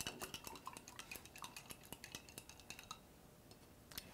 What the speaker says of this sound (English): I'm gonna rinse my brush again